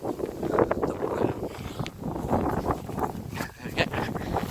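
Wind buffets a microphone outdoors in a large open farm field, producing steady rumbling gusts and rustling noise that rise and fall throughout.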